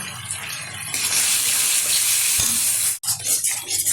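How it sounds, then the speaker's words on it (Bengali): Chili sauce and tomato sauce mixture poured into a hot pan and stir-fried for chili chicken, a loud rushing sizzle with scraping stirring and a brief clatter near the end. "মিশ্রণটা ঢেলে দিলাম, ভালোভাবে কষিয়ে নেব"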